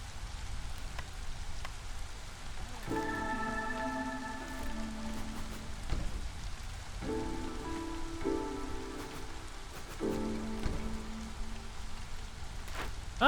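Steady rain falls throughout in the video game Against the Storm, a constant close hiss of drops on surfaces, with soft melodic game music tones rising and fading over it.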